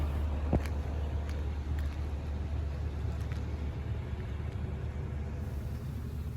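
Steady low rumble of a car driving along a road near the U.S.–Mexico border, a continuous engine and road noise heard from inside the vehicle with some wind, one brief sharp knock near the start, no talking.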